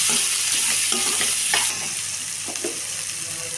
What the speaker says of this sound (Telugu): దీంట్లో కొంచెం పసుపు కూడా వేసేసుకోండి ఇప్పుడు మొత్తం మిక్స్ వేసుకోండి